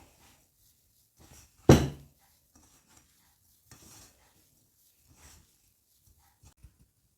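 Egg flour dough for a Sri Lankan egg flour recipe is worked by hand in a bowl, giving one loud squelching press followed by soft, sparse kneading and mixing noises, near and without talk.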